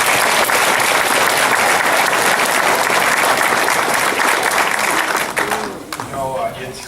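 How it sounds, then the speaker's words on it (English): Dense audience applause fills a Veterans Day gathering at SORCC White City, loud and steady for about five seconds before thinning out, with a voice rising as the clapping fades. "How about a round of applause?"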